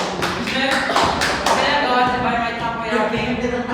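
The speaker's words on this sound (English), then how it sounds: "Give applause, everyone." Classroom group applause right after a student group's presentation during a teacher-training practice lesson: a dense, steady wash of many hands clapping at once, close and fairly loud, with voices mixed in.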